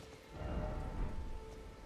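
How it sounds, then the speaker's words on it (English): Rain falls steadily in Elden Ring, a faint, continuous patter of drops over a low rumbling bed, with no voices over it. "It's still raining!"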